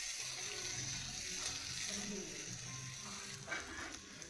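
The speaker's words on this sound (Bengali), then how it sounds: "প্রথমে কিন্তু আলুটা আমি ভালো করে ভেজে নেব" Potatoes fry in oil with a soft, steady sizzle, fairly quiet, with faint clinks of stirring and a low voice murmuring beneath.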